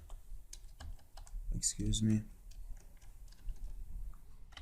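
Computer keyboard being typed on while writing code in Visual Studio for Unity: quick clusters of light plastic key clicks, close and fairly clear, with a person's voice talking over part of it.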